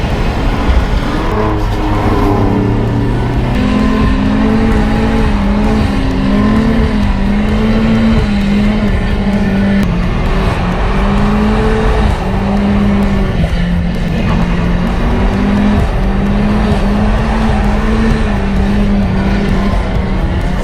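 Race cars pass one after another on a big circuit, engines loud and close, rising and falling in pitch as each goes by, with a constant roar throughout and no talk.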